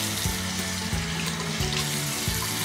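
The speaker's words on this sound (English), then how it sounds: "I put Piper into the sink." Tap water runs into a sink while a skinny pig is being bathed. It is a steady, close splash and trickle, with faint low tones shifting underneath, and no voices.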